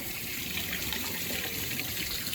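Water hisses steadily from a bidet spray hose, a constant close spray with no pauses and no voices.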